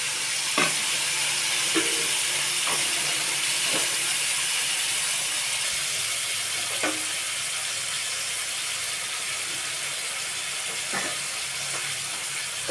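Masala-coated potatoes sizzle steadily in hot oil in a pan, a continuous close frying hiss with occasional soft clicks and stirring knocks, no talking.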